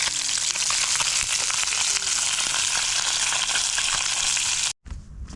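Close, steady sizzling of salted fish frying in oil without flour, outdoors by the Desna river, a loud continuous crackle that cuts off abruptly near the end.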